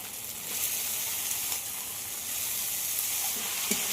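Red lentils frying in a pan with ginger and garlic, a steady loud sizzle throughout with faint stirring scrapes, no voices.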